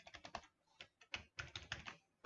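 Typing on a computer keyboard produces a quick, uneven run of crisp key clicks in short bursts with brief pauses, close and fairly quiet with no talking.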